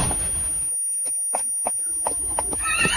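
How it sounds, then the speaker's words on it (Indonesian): A horse being ridden gives a series of sharp, evenly spaced hoof clops on hard ground after a brief noisy start, fairly close, with a high whinny-like squeal near the end. "Naik kuda itu biasa aja, bisa nunggangin baru hebat."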